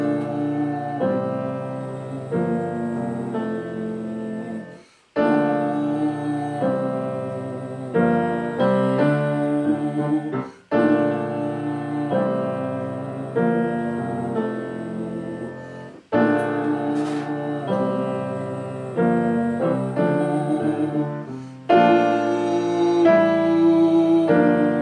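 Alto part of a song played on a keyboard-like instrument for a community choir to learn, a sustained melodic line in phrases broken by short pauses, clear and close with no voices.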